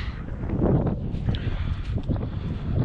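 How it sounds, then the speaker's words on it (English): Wind blows outdoors at a trapping site, a steady rushing roar buffeting the microphone with gusty low rumble throughout, no voices. "And the wind is blowing this way."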